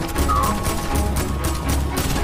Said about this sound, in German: Hier kommen noch Schüsse. Hier oben.